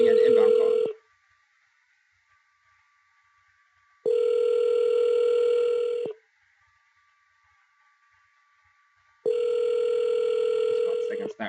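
An outbound call to a cell phone placed through the ViciDial dialer rings back in three evenly spaced ring tones, each about two seconds long, with near-silence between them and a faint hum in the gaps.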